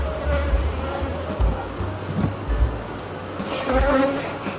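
A steady buzz of many honey bees hums around a hive, with occasional louder passes as individual bees fly near.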